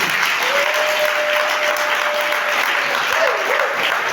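A church congregation applauds and cheers in praise of Jesus, dense sustained clapping with voices mixed in and a faint sung or called tone threading through.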